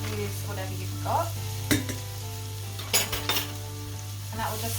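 Vegetables with demerara sugar caramelizing in a pan, a low steady sizzle broken by a few sharp clinks and scrapes of a utensil stirring against the metal, close by.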